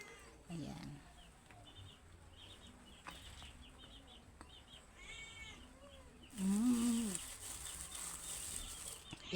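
A pet cat meows several times in a quiet home, the calls short and fairly close, with one louder drawn-out meow near the end.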